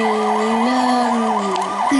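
A loud electronic police car siren in the video game Lego City on 3DS wails in a fast up-and-down pattern, steady and close, heard alone.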